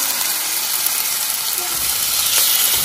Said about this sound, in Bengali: অল্প সামান্য তেলের মধ্যে এটাকে এপিট ওপিট করে আগে ভাজা হচ্ছে